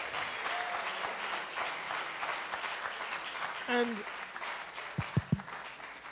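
An audience claps for presenters at a gathering, a steady round of applause that fades out, with a brief voice and a few isolated claps near the end.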